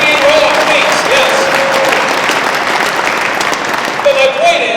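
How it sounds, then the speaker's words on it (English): Audience applause at a Convention of the States rally, a sustained wash of clapping from a crowd that runs through the whole moment, with a speaker's voice intermittently over it. "So you should applaud that too."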